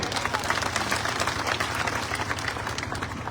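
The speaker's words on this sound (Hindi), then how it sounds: "तो यह नेता के लिए भी ताली बजा दे भाई।" A crowd at a sit-in protest over a water shortage in a village near Hansi claps for a political leader, with steady, dense applause that carries on throughout, with a few voices mixed in.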